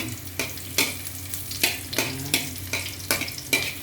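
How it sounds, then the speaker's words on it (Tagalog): Garlic being sautéed in a pan for a simple dish of bitter gourd (ampalaya) leaves, with a steady sizzle punctuated by about nine rhythmic stirring scrapes, close and moderately loud, no talk. "Gigisa ko lang naman po yan."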